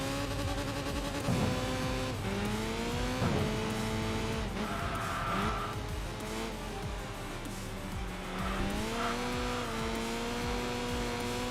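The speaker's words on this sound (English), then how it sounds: "Oh, and the sound of this car as well. It sounds so nice." Racing car engine in the Enthusia Professional Racing video game, revving loudly and steadily, with its pitch climbing and dropping through repeated gear changes, occasional tyre squeal, and no talking.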